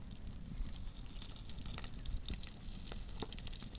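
Faint, steady sizzling of slit green chillies frying in mustard oil in a wok, with soft crackles and occasional light pops.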